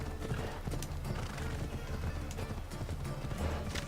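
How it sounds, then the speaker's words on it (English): Horse hooves gallop in a steady clip-clop rhythm in Assassin's Creed Odyssey, quiet and continuous beneath a dense game soundscape. "This horse has no speed control."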